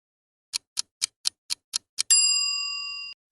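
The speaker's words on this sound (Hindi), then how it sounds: "My phone is ringing." A phone ringtone: a quick run of seven bright chime-like ticks, then a sustained ringing tone that holds for about a second, clear and close with no other sounds.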